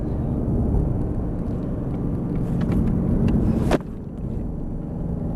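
A Mercedes GT R drives on a race track, its engine a continuous loud rumbling roar building toward a sharp crack before dropping abruptly to a quieter idle-like drone, no talking.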